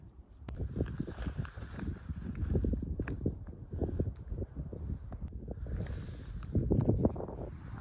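Gusty wind buffets the microphone in uneven rumbling bursts, with faint background sounds underneath and no talking.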